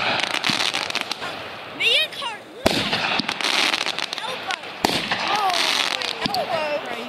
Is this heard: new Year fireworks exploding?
yes